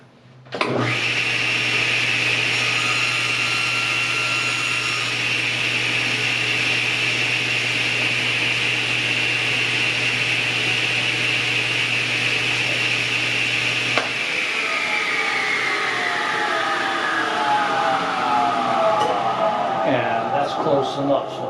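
A power saw trims a slightly long cut wooden piece for a jewelry box: a loud, steady motor whine that holds for about fourteen seconds, then winds down in pitch while the blade coasts to a stop.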